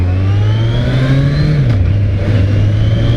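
A Yamaha XJR1300 motorcycle engine runs loud and close with a deep, steady rumble that rises slightly in pitch, then drops back and settles at a constant idle-like roar.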